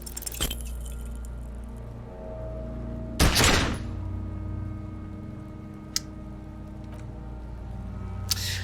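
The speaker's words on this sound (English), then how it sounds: "A plume of smoke erupts from the barrel. Your hand goes numb from the explosion." A single loud revolver shot in Disco Elysium cracks out sharply over a low ambient hum, followed by a few faint clicks.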